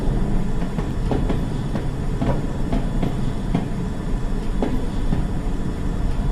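A 1990 East London Line train heading toward New Cross, heard from inside the driver's cab: a steady loud rumble with rhythmic wheel clicks over rail joints and no talk.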